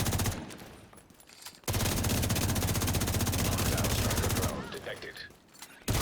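Minigun fire in Tom Clancy's The Division 2, a loud continuous rapid burst lasting about three seconds between quieter stretches of game ambience, with short bursts returning at the end.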